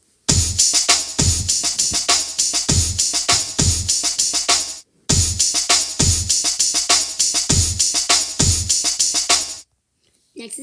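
Funbot, a character in the video game Sprunki, gives off a dense, loud electronic beat with punchy low kicks under a bright buzzing layer, playing two bars, then a brief break, then repeating before cutting to silence.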